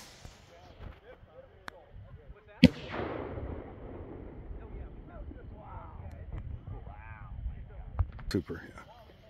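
A Master Ballistic Color gold firework going off, one sharp loud bang followed by a crackling, hissing tail, with other people talking throughout.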